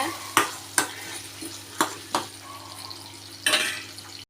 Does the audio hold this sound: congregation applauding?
no